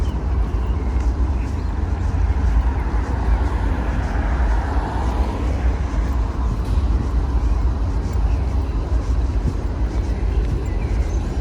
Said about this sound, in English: there's a factory or something around there. It's making a loud throbbing noise.